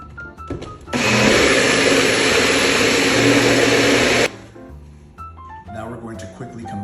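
A kitchen blender whirs loudly and steadily for about three seconds while pureeing pumpkin pulp for pie filling, then cuts off, leaving quieter kitchen sounds around it.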